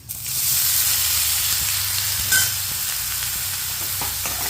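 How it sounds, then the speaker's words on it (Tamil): Banana stem sautéing with green chillies in a hot pan, a steady close sizzle and hiss with a few soft stirring scrapes, no voices. "வாழைத்தந்த போட்டு வதக்கணும்"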